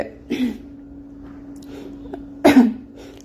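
A person with a sore throat and cough gives two short, sharp bursts of coughing and throat clearing, one near the start and a louder one later, with quiet pauses between.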